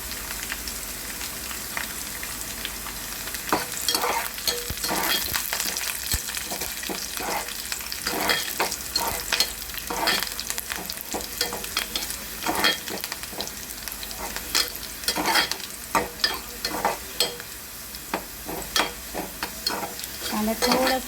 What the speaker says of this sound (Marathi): कांदा भाजून घेऊया मस्तपैकी, चमचमीत भाजून।